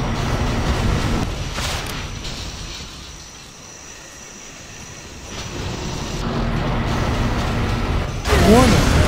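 A Scud Storm missile launch in Command & Conquer Generals Zero Hour gives a loud, roaring, jet-like rush that dips briefly and then swells again toward the end.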